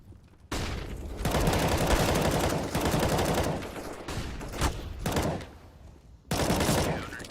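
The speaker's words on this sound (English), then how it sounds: "Some really good shots there" Gunfire in the video game CS:GO during a tournament match, dense bursts of automatic shots in several loud volleys separated by brief pauses.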